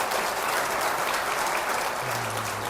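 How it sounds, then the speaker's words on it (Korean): A church congregation at a Sunday praise service bursts into steady, dense applause, loud and continuous throughout. "하나님께 영광의 박수 올려드리겠습니다."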